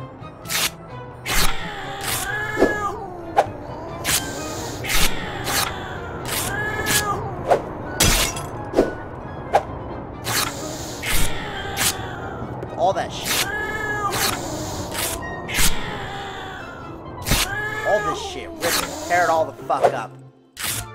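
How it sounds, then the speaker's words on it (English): A cat in the video game Jazzpunk meows and caterwauls again and again while objects crash and shatter in sharp bursts across the house, loud and close, with a voice talking over parts of it. "Baby, get the cat! He's messing up the house!"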